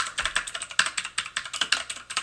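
Rapid typing on a new rainbow-lit gaming keyboard, a steady run of crisp, close clicks and clacks with no talking.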